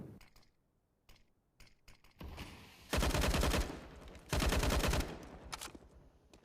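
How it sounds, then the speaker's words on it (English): Gunfire in a Counter-Strike match on Dust 2, with sniper rifles and other weapons firing in two dense, loud bursts, set among scattered clicks and mechanical game sounds. "There's these AWPs firing off."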